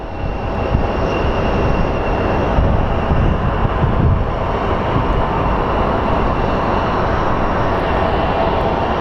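American Airlines jet taking off from a runway at Phoenix Sky Harbor International Airport, a loud continuous engine roar heard steadily from a distance with no talking.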